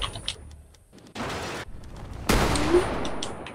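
Gunfire in Fortnite, heard as a few sharp broadband bursts and a sustained noisy blast separated by brief gaps, fairly loud and close.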